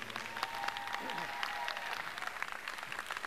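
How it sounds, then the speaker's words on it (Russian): Concert audience applause fills a hall with many hands clapping steadily and evenly for several seconds. A faint tone and a murmur of voices sit underneath. "Ваши аплодисменты."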